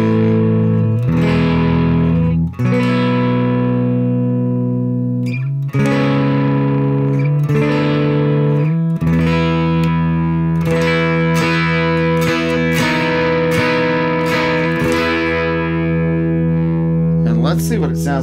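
A Les Paul electric guitar plugged straight into a Greer Royal Velvet Class A British drive amp, played as loud sustained chords and single notes with a warm tone, ringing near and steady throughout, with a brief pick scrape near the end.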